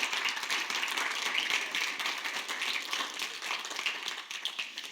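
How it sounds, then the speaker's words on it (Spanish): A church congregation applauding during a Spanish-language service, a steady dense patter of clapping at moderate level throughout with faint voices mixed in. "dale un aplauso fuerte al Rey"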